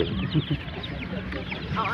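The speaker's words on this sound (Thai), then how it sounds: "ตอนนี้พี่มาก็เลือกไก่น้อยอยู่" Chickens clucking at a market while buyers pick out young birds, a steady chatter of short calls under nearby voices talking.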